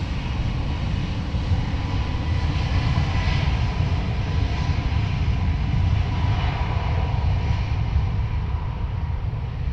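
An Aer Lingus jet makes a rolling-start takeoff at Dublin Airport, producing a loud, steady, broad engine roar that holds evenly for the whole stretch with no voices.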